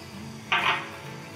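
A single short metallic scrape of a utensil against a pan while masala spices are mixed into onions, one brief clatter standing out over a quiet kitchen background.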